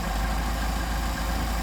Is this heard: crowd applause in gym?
no